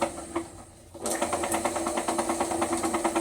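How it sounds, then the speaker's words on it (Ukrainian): An NS-12 drill press with a newly fitted belt and a worn pulley is switched on. After a brief quiet moment it runs as a close, steady mechanical whir with a regular pulsing beat. "Вмикаємо наш ремінчик."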